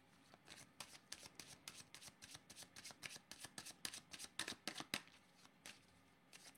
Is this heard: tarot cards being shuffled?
yes